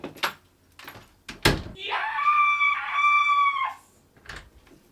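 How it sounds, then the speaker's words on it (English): A person lets out a long, loud, sustained scream lasting about two seconds, with a sharp thump just before it and quieter sounds around it. "I need to have a good scream"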